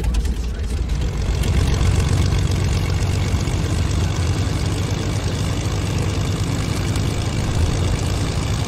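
Droning aircraft engine inside the Fortnite battle bus before the drop, a steady low rumble with propeller-like throb, continuous and fairly loud throughout.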